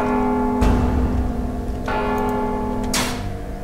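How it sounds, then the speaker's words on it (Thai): Heavy bell in the stealth video game Mark of the Ninja, struck three times with long ringing overtones between loud, close strikes and no talk over it. "Don't you hear the bell"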